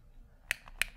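A Microtherm torch igniter clicks twice in quick succession, two sharp close-up snaps against near silence.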